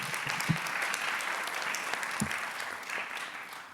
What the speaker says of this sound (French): Et je voudrais qu'on applaudisse une fois encore pour la docteure Marie-Françoise